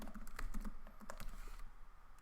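Quiet, quick clicks of typing on a computer keyboard come in an uneven burst of keystrokes at close range.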